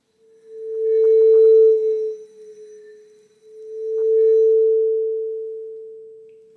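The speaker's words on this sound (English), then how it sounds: "if I'm now trying to do a pitch bend on this plate, it sounds like this" A bowed vibraphone plate sounds two long, pure sustained tones in turn, each swelling and fading slowly with a gentle pitch bend, close and clear in otherwise silent surroundings.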